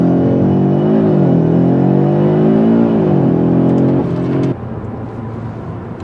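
A 2025 Audi RS3 in RS Performance mode accelerating hard from a stop: a loud, steady engine drone climbing in pitch through the gears with a shift near the end, heard from inside the car.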